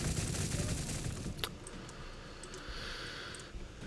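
Gunfire in the strategy game Gladius: Relics of War, a dense rattle of rapid shots strongest at first, then trailing off into scattered quieter clicks and ticks.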